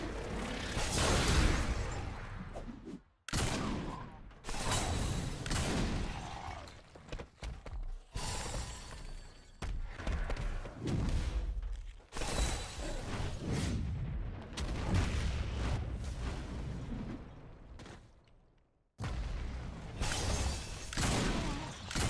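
Gunfire aimed at the warden in Saints Row 4 comes as loud, dense bursts of shots and crashing impacts, broken by a few brief pauses, with no voices.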